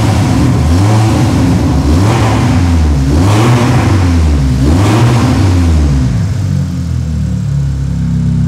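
A tuned 700 PS VW Golf engine runs loud and close, its note swelling and falling through several rhythmic revs before settling back toward a steady idle, with no talking.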